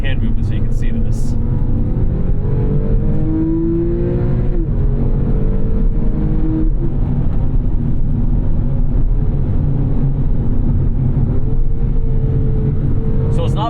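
Porsche 911 997.2 GTS with a dual-clutch gearbox driving on the road, its engine a loud steady drone with rising and falling pitch through gear changes, tyre and wind roar underneath, and someone talking over it.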